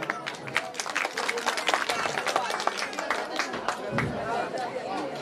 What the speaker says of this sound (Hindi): एक बार जोरदार ताली बजाते हैं।